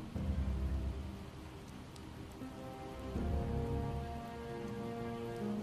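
Steady rain falls in the Project Zomboid survival game, a dense continuous patter with low rumbling texture, moderately loud and swelling slightly partway through, with no voices over it.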